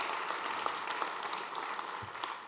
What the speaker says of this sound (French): là je pense qu'on peut l'applaudir parce que c'est un super développement